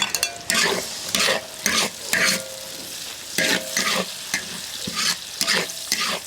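Garlic sprout stems being stir-fried in a wok with cured pork, loud bursts of sizzling and scraping strokes of a spatula in an uneven rhythm, with quieter crackling between.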